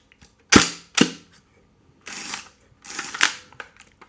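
Hasselblad camera shutter firing in close, dry mechanical clicks: two sharp snaps, then two longer whirring clunks, with quiet gaps between them.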